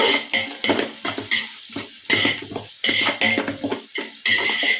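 Onions sautéing in oil in a pan for chicken biryani, with bursts of sizzling and repeated scraping and stirring of a utensil against the pan, close and fairly loud, no talk.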